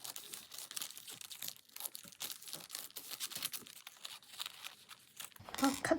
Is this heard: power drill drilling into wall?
no